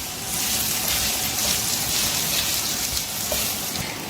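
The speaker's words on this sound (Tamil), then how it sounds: "இதையும் நல்லா வதக்கணும்." Bell pepper and Brussels sprouts sauté in hot oil, giving a steady, dense sizzle that fills the pan closely and continuously with no talking.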